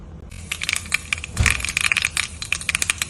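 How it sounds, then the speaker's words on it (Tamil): Mustard seeds crackle and spit in hot coconut oil in a pan while Thengai Paal Kappa is cooked, a dense run of sharp, close pops and sizzles with no talk. "இப்போ எண்ணெய் காஞ்சிச்சு, நம்ம கடுகு சேர்த்துக்கலாம்."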